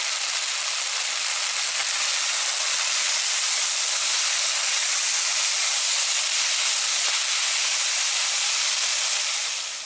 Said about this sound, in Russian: сейчас буду тушить под закрытой крышкой на небольшом огне.